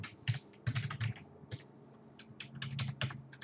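Someone types on a computer keyboard while entering GLFW code, producing close, crisp clusters of keystrokes in short bursts separated by brief pauses, with no talk.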